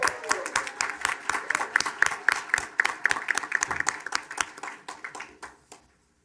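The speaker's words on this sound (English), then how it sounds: "Let's give them one more round of applause" A school board meeting audience claps in a round of applause, with sharp, distinct hand claps from a fairly close group at a quick, uneven rhythm. The clapping thins out and fades to silence near the end.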